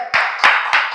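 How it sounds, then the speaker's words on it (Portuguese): A church congregation claps in worship, with three sharp, close claps in quick succession. "Aplauda mais uma vez, você que pode."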